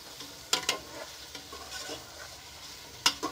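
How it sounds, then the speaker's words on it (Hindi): Beef chunks on the bone are stirred and fried with onions in a pan, with a steady sizzle and a few sharp scraping clacks of the spoon against the metal, heard alone and fairly close. "बस 1 मिनट के लिए इसको मैं भूनूंगी प्याज में।"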